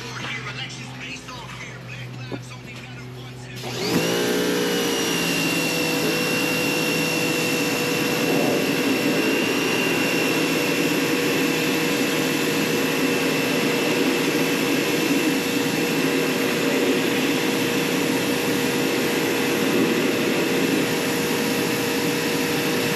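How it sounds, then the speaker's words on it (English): A pressure washer blasting an AC dehumidification unit, starting abruptly after a few seconds of quieter background and then holding a loud, steady high-pitched whine and hiss with no break through the rest of the clip. "this is why I use a pressure washer"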